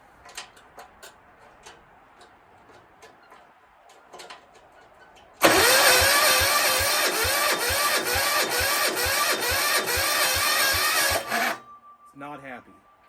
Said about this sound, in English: And then start cranking with it on, I guess. And then turn the compression off.